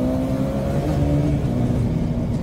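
A KTM motorcycle engine revs hard as the rider accelerates after a gear change, with a loud, steady, close-up drone throughout and no talk.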